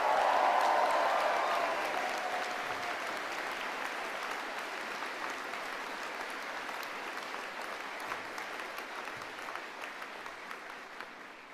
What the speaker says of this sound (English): Give yourselves another big cheer